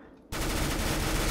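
Rapid automatic gunfire in Counter-Strike: Global Offensive erupts after a short quiet moment, then runs as a loud, dense, continuous burst to the end.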